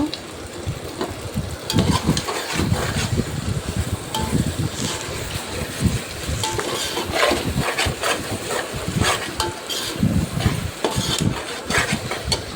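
Chili powder being stirred into a frying pan of masala for mutton biryani, with steady sizzling and scraping stir strokes under a constant low hum, close and moderately loud, no talking.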